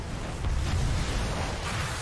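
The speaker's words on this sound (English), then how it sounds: "Explosions going off everywhere." Explosions in a war zone in the World of Warcraft: Dragonflight video game, a dense, loud rumbling roar of blasts with heavy low-end booms swelling and holding for a couple of seconds.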